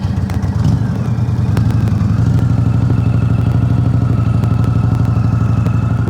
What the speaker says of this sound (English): Now for this demo, I'm gonna use my Indian Chieftain, because it was in back of the garage